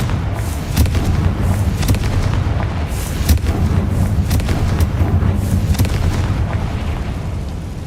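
Confringo fire-blast spell explosions from Hogwarts Legacy, played live: a loud, dense barrage of booming blasts that roll together without pause, with sharp crackling bursts scattered through.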